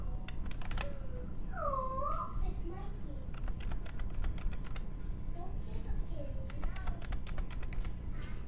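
Rapid clicking keystrokes on a computer keyboard come in bursts, close and fairly quiet. A voice and other faint vocal sounds run underneath.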